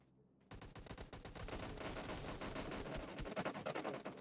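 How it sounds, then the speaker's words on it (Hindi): Rapid automatic gunfire in the mobile battle royale game PUBG Mobile, a dense continuous barrage of sharp cracking shots that starts abruptly and keeps going, close and loud, with no talk. "अरे तेरा गोलियों का बौछार हो गया रे इधर से"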